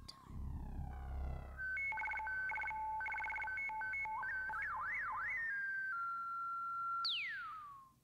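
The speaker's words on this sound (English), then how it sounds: "It's dial-up time." Dial-up modem tones play at low volume: dialing beeps, then warbling handshake chirps, steady carrier tones and a final falling screech, heard alone without talking.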